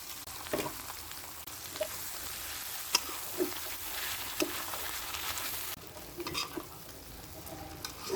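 Meat sizzling in hot spiced oil as it is stirred in a pan for Chittagong-style kala bhuna, a steady close crackle with the scrape and clack of the spoon every second or so.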